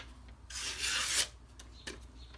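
A Microtech Socom Elite knife with a CTS-204P steel blade is drawn across a sharpening stone in one long, steady rasping stroke, followed by a few short, quieter scrapes, close up and with no voices.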